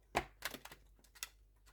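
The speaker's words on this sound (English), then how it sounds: "I'm going to shuffle one more time" A deck of oracle cards is shuffled by hand, giving a few soft, close riffling snaps and taps at a low volume with brief pauses between them.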